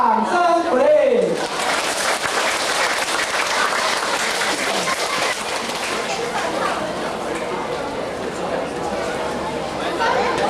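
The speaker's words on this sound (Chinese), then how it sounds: "掌声鼓励" Audience applause after a choir's song at a Mother's Day event, a brief voice at the start giving way to loud, sustained clapping with crowd chatter that holds steady to the end.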